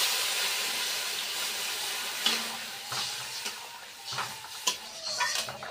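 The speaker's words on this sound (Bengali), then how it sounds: "তরকারিটা ফুটছে" Tomato curry simmering in a cooking pot after water is poured in, a steady hissing, bubbling wash with scattered soft pops and spits close by, no one speaking.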